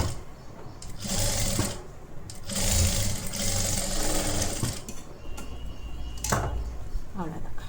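Sewing machine stitching a collar-neck blouse, running in loud close bursts with short pauses between, alone with no talk.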